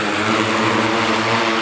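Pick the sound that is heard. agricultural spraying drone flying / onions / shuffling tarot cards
agricultural spraying drone flying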